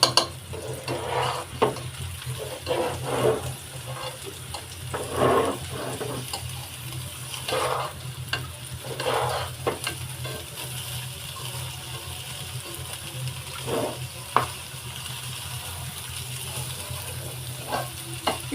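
One kilogram of rice fries with spices in a pot for pulao, a steady low sizzle broken by repeated scraping and stirring strokes against the pot, close and moderately quiet, with no talking.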